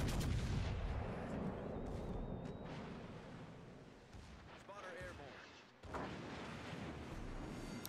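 Rear turrets of the battleship Alabama firing in World of Warships Legends, a deep, heavy boom at the start that rolls off into rumble, a second thump later, with a voice talking over it.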